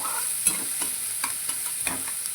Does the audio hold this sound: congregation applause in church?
no